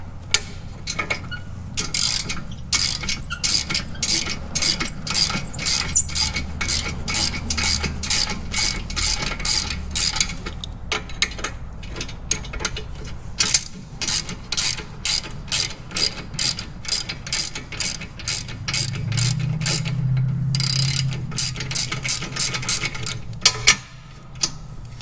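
A ratchet wrench clicks rapidly and loudly close by as it removes a cross bolt on shop equipment, with bursts of fast ratcheting broken by short pauses over the whole stretch.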